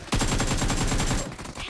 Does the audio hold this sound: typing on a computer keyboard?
no